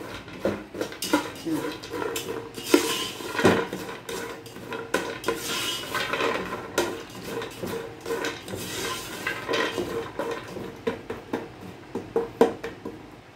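Pistachios and raisins fry in a pan while a utensil clatters and scrapes against the metal, giving steady clinks and stirring clicks over a soft, continuous background sizzle.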